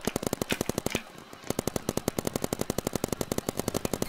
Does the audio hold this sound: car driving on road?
no